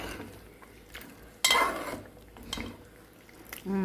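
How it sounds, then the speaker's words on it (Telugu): Masala being stirred into a chicken gravy in a village kitchen, a few close spoon scrapes against the pot, with one louder sloshing stroke standing out. "సో అది వేసుకున్నాక కలుపుకోవాలి బాగా."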